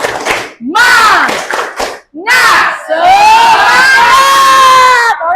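Group of children clapping rhythmically and shouting a spirited chant in unison, loud and close, with an adult leading the call.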